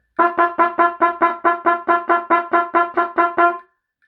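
A mellow baritone horn sounds a single G in a run of short, detached notes, about fourteen in steady rhythm, close and clear.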